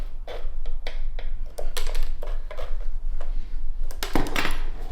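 Sharp metallic clicks and snips of wire cutters severing the thin anchoring wires under a Japanese maple bonsai's pot, a dozen or so irregular crisp snaps close by with no talking.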